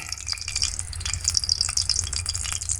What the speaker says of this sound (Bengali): এখন গরম তেলের মধ্যে বড়াগুলোকে ভেজে নেওয়া হবে